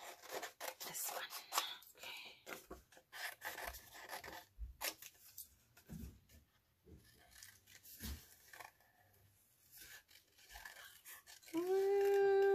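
Scissors snip out a small paper Frida stamp image in a series of close, crisp cuts with faint rustling, ending in a brief steady tone.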